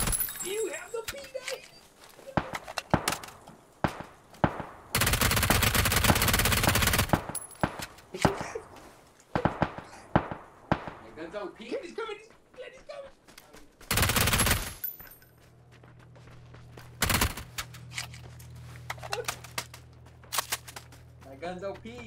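P90 submachine gun bursts in PUBG on PS5, rapid automatic fire in several sharp loud volleys with gaps between, crackling impacts and shuffling game sounds around them.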